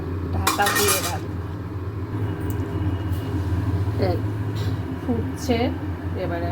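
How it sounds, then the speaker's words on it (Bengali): A metal lid clinks onto a cooking pot of spiced fish head and potatoes with hot water, two brief clanks over a steady low rumble as someone talks. "এবারে এটা ঢাকা দিয়ে রাখবো।"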